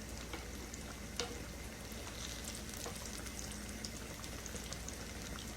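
Steady sizzling of eggplant frying in melted butter in a pan, an even crackle with small pops, fairly quiet and without voices.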